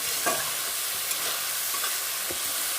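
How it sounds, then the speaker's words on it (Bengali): Spiced tilapia fish curry sautés in a pan, a steady close sizzle of frying with a few scraping stirs of a spatula at intervals, and no voices. "তো এখন কষানোর পালা"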